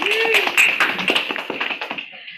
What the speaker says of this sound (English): Let's give a round of applause to guest Rachel